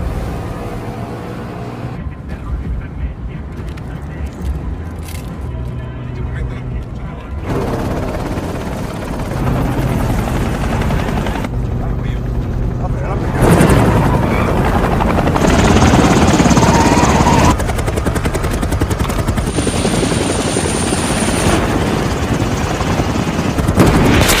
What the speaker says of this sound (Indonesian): helikopter tim Matt akhirnya berhasil mengejar Gallo serta para anak buahnya.